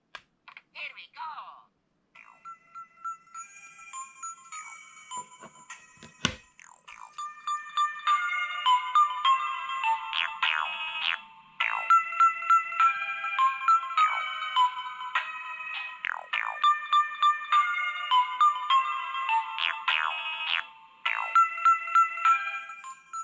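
A tinny LEGO Mario electronic toy jingle plays a bouncy melody of short beeping notes, preceded by a few clicks and a brief knock.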